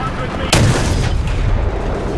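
Anti-aircraft guns in the War Thunder video game fire at an IL-2 ground-attack plane: a single sharp, loud boom cuts in and then rumbles into continuous low battle noise.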